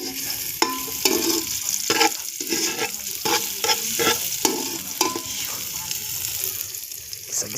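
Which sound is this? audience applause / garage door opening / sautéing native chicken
sautéing native chicken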